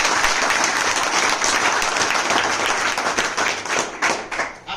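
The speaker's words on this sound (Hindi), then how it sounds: "तो सर के लिए एक बार जोरदार ताली।" Loud audience clapping for a visiting brigadier at a gathering of soldiers, with dense, continuous applause that thins toward the end.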